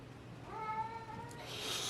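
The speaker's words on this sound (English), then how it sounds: "Is my cat crying?" A single drawn-out cat meow, quiet and slightly distant, crying indoors to be let in, followed by faint rustling.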